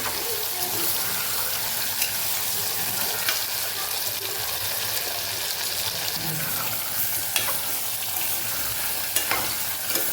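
Skin-on potatoes being sautéed in a pan for a Kathiyawadi potato curry give off a steady, close sizzle, with the scrape of stirring throughout.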